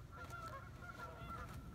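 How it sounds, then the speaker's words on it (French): Canada geese honk outdoors in a quick run of repeated nasal calls, faint and somewhat distant over a low background rumble. "les oies, les bernaches sont sortis"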